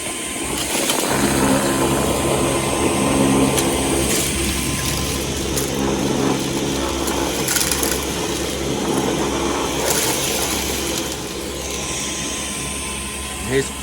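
A fully charged Dyson cordless bagless cyclone vacuum cleaner sucks up sand with a loud, steady whining hum and droning motor tone, while a person talks over it.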